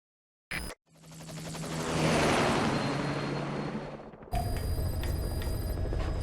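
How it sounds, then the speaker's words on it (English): A helicopter in the Metal Gear Solid 5: The Phantom Pain video game roars up after a short click, a loud sustained whirring rotor noise that shifts abruptly into a denser close-up cabin drone. "Just get in the chopper."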